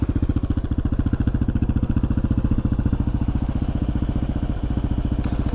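A Kawasaki KLR motorcycle engine runs steadily nearby, a loud, even single-cylinder thumping pulse that holds for the whole stretch with no voices.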